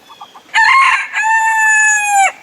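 A male Mille Fleur rooster crows once, close and loud, a strained, rising call held for nearly two seconds after a few soft clucks.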